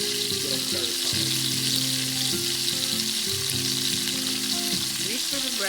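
Bread frying in butter in a pan gives a steady, close sizzle that holds for several seconds, with sustained tonal music running underneath.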